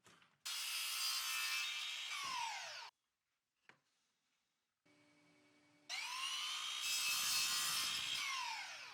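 A table saw rips through MDF boards in two long loud cuts, each a harsh whining rasp with a pause and a brief knock between them, and the motor hums on its own in the gap.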